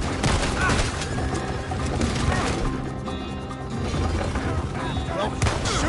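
Dense gunfire in the Western video game Red Dead Redemption 2, loud continuous shots and bursts layered over game audio and voices, with a brief lull in the middle.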